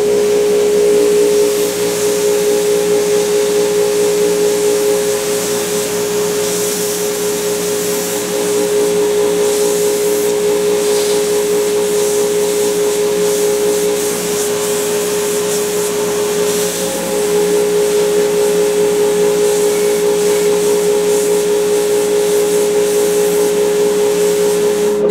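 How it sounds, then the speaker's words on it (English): Old-school deadhead sander running while shaping a guitar neck; a loud, steady whirring drone with a strong tonal hum continues throughout, with slight surges in level as the wood is worked. "we're going to head over to the deadhead sander right now and get to work on that"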